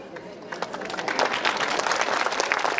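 A crowd of students and guests claps steadily at a school alumni meet at JNV Laduna in Mandsaur, the dense applause building and holding for about three seconds, with some voices mixed in.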